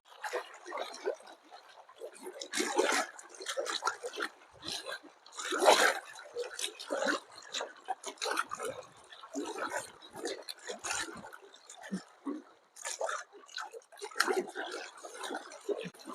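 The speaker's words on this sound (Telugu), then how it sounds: "ఇది కట్ట ఎంత ఇట్లా ఉంది అలల సౌండ్ చూడు ఎట్లా వస్తుంది" Waves lapping against the embankment of Mallanna Sagar reservoir, heard as irregular, close splashes and washes that come in uneven bursts.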